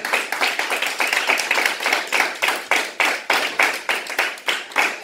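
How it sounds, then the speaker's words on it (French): A church congregation at a worship service claps in a loud, rhythmic beat of repeated sharp hand claps, acclaiming Jesus without pause throughout. "Acclame Jésus-Christ de Nazareth. Acclame-le très très très fort."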